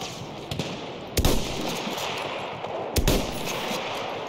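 Gunfire in Battlefield 1, mostly two loud, sharp shots with a few fainter distant pops over a constant battlefield background, no talking.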